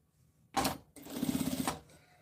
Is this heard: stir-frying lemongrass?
no